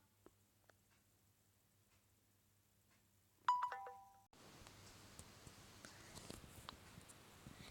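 A phone ringtone sounds briefly for about a second, a short electronic tonal burst standing out from a quiet room, followed by steady background noise.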